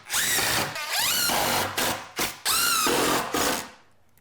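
A power drill drives 1 3/4 inch screws into a wooden shelf under a workbench miter saw station, whining loudly in several long bursts that rise in pitch, then straining briefly as each screw seats, with short pauses between.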